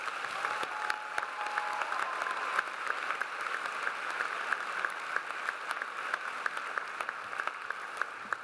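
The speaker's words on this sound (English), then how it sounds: "Everyone, please give them one more round of applause." Sustained applause from a large commencement audience cheering undergraduate graduates, a dense steady wash of many hands clapping evenly throughout with a few sharper claps poking out, fairly distant in a big hall.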